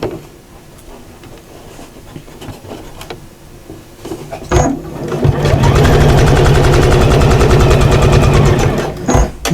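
A sewing machine stitches storage-system fabric in a long, fast, rapid-fire run after a few scattered handling clicks and bumps, ending with a brief stop and restart up close.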